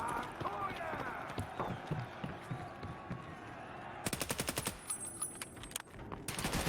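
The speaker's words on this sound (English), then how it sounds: "Early shots out by Walker" Rapid gunfire bursts from a competitive first-person shooter match on the Equator map, with a fast rattling volley in the second half standing out over steady commentary and game noise.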